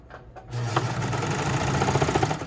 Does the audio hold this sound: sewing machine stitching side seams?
yes